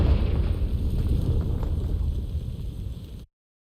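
A Confringo fire spell exploding in Hogwarts Legacy, heard as a loud, close, rumbling blast with a crackling burst that holds for about three seconds and then cuts off abruptly.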